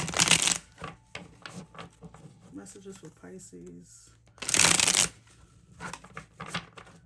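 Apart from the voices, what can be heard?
shuffling tarot cards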